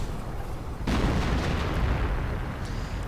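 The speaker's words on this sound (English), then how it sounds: "Artillery also gets a few hits on the Ostwind." Artillery in a WWII strategy game strikes an Ostwind anti-aircraft tank, a sudden heavy boom that swells into a long, dense rumble of continuous explosions and fire.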